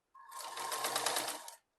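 Sewing machine stitching a seam on a ladies salwar, one fast continuous run of rapid needle clatter starting and stopping cleanly, close and fairly quiet.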